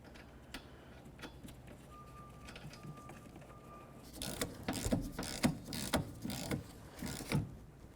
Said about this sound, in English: go ahead and install the nut and tighten it.